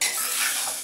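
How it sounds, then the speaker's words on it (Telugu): Black gram is dry-roasted slowly in a pan over a low flame with a brief, close scraping and stirring rustle over a faint sizzle. "సన్న సెగ మీద చక్కగా వేయించుకోండి నిదానంగా।"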